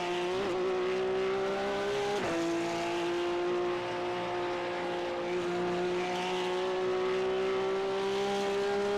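Porsche race car engine in a racing video game holds a steady loud drone with small shifts in pitch and a brief tire squeal, heard alone with no talk.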